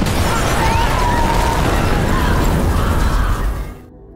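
An explosion at a cafe in a film sounds as a loud, sustained roaring blast with rumbling debris, which cuts off abruptly at the end.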